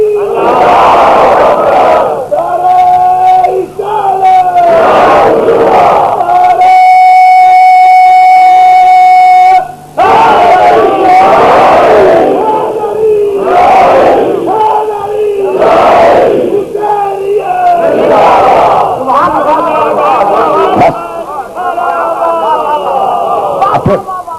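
A large crowd at a religious gathering in Model Town, Lahore roars the Takbir slogan in loud, repeated call-and-response waves, with a leader's voice alternating with the massed reply and echoing across the venue.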